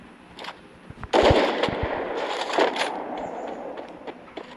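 Sniper rifle shots in a video game, one loud sharp blast followed by a second fainter report over a steady game background hum, with no voices.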